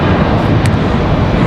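Breeze Airways Embraer E190 rolling down the runway for takeoff at Raleigh-Durham, a steady broadband engine roar holding at an even, loud level throughout the short stretch with no one talking.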